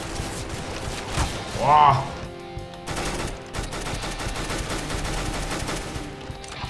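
UMP 45 submachine gun fire in Counter-Strike: Global Offensive, several rapid bursts of automatic shots with impacts, close and loud, while a man makes a brief exclamation.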